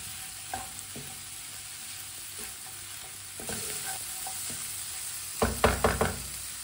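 A pan of tomato masala with fresh green coriander being stirred, soft scraping strokes over a low sizzle, then a louder burst of clattering stirs near the end.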